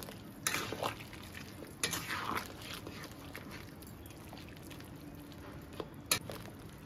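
Fried vegetables and lentil dumplings are mixed into Bengali shukto in a pan, making faint, soft stirring with a few sharper clinks of a utensil against the metal over a low background.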